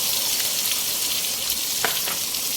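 Chicken frying in a pan with onions, garlic, tomato and bell pepper gives a steady, close sizzle throughout, with a couple of brief scrapes or stirring clicks near the end.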